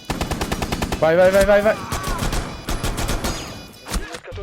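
Rapid automatic gunfire from a Rainbow Six Siege match, a loud burst of shots with sharp repeated cracks over a tonal music bed, while a voice urges someone on in quick repetitions.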